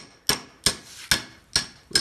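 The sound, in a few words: hammering a sleeve out of a stabilizer bar bushing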